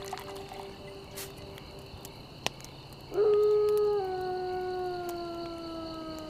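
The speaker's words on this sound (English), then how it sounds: "These dogs, once they find a bear, they go after it." Hunting dogs on a bear hunt howl together in a sustained, sliding chorus that starts abruptly partway through and carries loud and steady to the end over a faint buzzing outdoor background.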